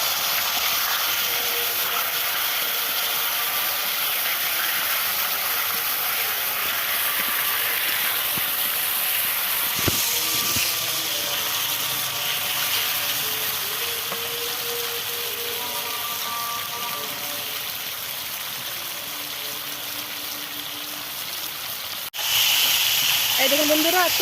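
Chicken fries lightly in hot oil, a steady broad sizzling hiss that runs close and continuous throughout, with a brief clatter and a slightly louder burst near the end.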